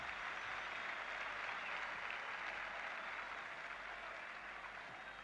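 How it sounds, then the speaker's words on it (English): A football crowd in Belfast applauds from off to one side during a Northern Ireland versus England match. The sound is a steady, dense wash of distant clapping and crowd noise that holds through the clip with no voices standing out. "Irish crowd away off to our left, giving a farewell applause to Brian Hamilton."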